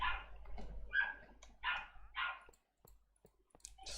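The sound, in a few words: dog barking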